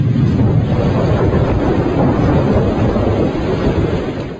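Heavy rainy-season downpour with rumbling thunder, a dense continuous roar that stays loud throughout the whole stretch.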